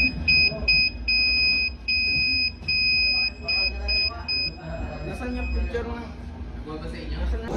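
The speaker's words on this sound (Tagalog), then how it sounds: "Ito ay Morse code pa din." A small robotics buzzer beeps Morse code, sending a series of sharp short and long electronic tones for several seconds before stopping. Muffled room noise and faint voices continue afterward.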